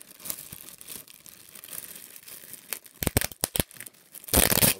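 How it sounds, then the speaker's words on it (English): Plastic bag packaging around a boxed VHS lot being torn open, starting with light crinkling and rustling, then a string of sharp, close tearing bursts and a loud final rip. "Now the plastic bag is open."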